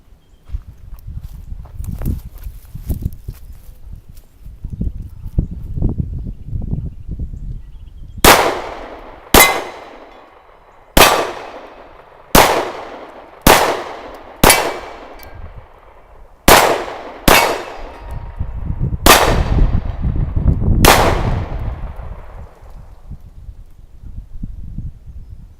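A Canik TP9SF Elite 9mm pistol fires ten sharp, loud shots at an outdoor range, spaced about a second or two apart with ringing decay, amid footsteps and shuffling before and after.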